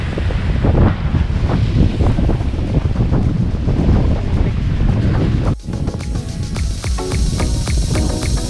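Strong wind roars and buffets the microphone continuously at a campsite at Kaliraya Surf Kamp, with a sharp rustling shift partway through as the gusts keep blowing.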